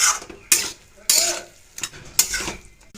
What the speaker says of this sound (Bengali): লাউ ঘন্টা সামান্য একটু আটা ছড়িয়ে দেবো। ভালো করে নেড়ে নিচ্ছি।